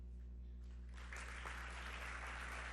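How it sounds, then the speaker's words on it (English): Attendees at a business meeting break into applause to approve bylaws; the clapping starts after a second of quiet room hum and stays fairly faint and distant. "So I think we can do the rest with just applause."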